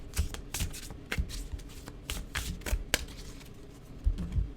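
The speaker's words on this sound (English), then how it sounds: "let's pull some more cards and see what we got" Tarot cards are shuffled and pulled from the deck in a quiet room, with repeated crisp riffling bursts and softer slides and taps, close and fairly faint.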